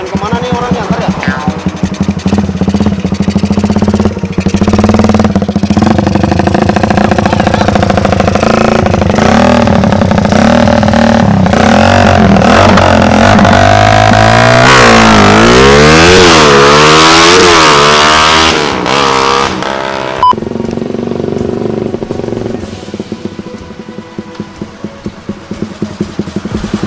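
Modified Suzuki Satria motorcycle with an oversized aftermarket carburetor, its engine revving loudly and close, rising and falling in long sweeps before cutting to a quieter idle, with voices talking faintly underneath.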